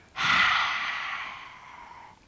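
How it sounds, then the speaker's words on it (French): Slow, steady breath out through the mouth during a guided neck-stretching relaxation exercise: one soft, airy exhale lasting about two seconds that starts abruptly, then gradually fades. Close and alone, with no talking. "Expire par la bouche."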